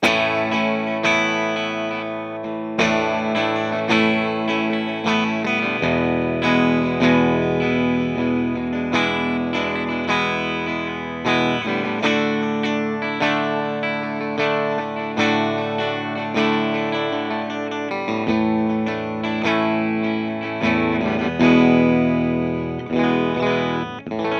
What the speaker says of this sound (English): this is a fairly clean Champ. Doesn't sound small.